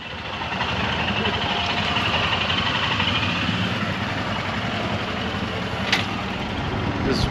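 A motorcycle engine hums steadily and loudly on a ride out of Lemu in Ladakh, with wind rushing past and no clear talking.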